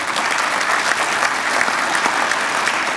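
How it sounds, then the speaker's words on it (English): A dinner audience of the Illinois Bar applauds during the chief justice's address. Steady, full clapping from many hands holds at an even, fairly loud level throughout, with no talk over it. "Yes, you can applaud."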